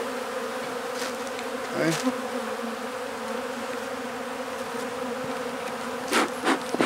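Yellow jacket wasps buzz inside a beehive during an inspection, a steady droning hum with a few louder close passes and faint rubbing of hive parts; one brief word is spoken.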